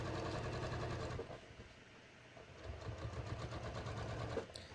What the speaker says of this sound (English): I'm just gonna sew along here.